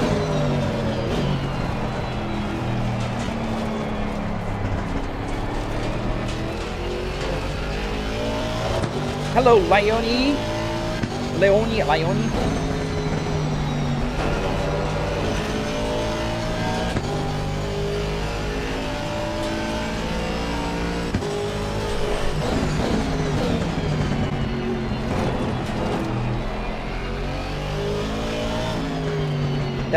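Race car engines rev and tires squeal continuously in a racing video game, with shifting engine pitch and occasional sharp squeals, while a person talks over the game sound.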